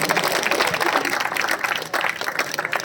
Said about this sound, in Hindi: तालियां तो बजा दो।